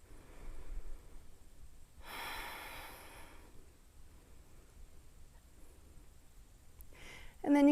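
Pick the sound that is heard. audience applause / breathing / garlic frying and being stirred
breathing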